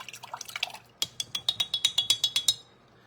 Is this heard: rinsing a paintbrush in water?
yes